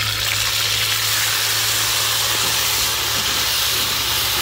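Masala of mustard seeds, fennel, curry leaves and ginger-garlic paste sizzles steadily in a pan heated on hot sand, a close, constant hiss and crackle with no talking.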